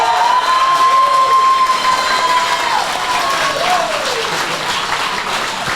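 A crowd at a combat sports Grand Prix championship final claps and cheers loudly and continuously, with whistles rising above the sustained roar.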